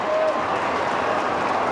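A hurling crowd at an Allianz Hurling League match between Tipperary and Cork cheers and applauds a goal, a dense, steady roar of fans filling the stadium.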